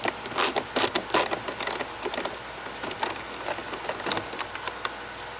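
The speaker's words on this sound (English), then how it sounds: "Down in the cup holder towards the back of it is another screw we're going to remove." Removing a screw from the cup holder area of a Mazda MX-5 Miata front door panel, heard as a run of short, close, light clicks and scrapes of a tool turning against plastic, fairly quiet, with no talking.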